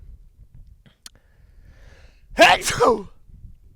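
A single sharp sneeze bursts out after a quiet stretch, close and loud, with a faint click just before it.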